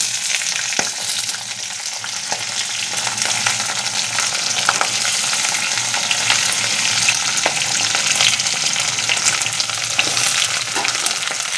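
Food sizzling loudly in a pan at home, a constant dense frying hiss with occasional scrapes and clicks of stirring, close and continuous without talk.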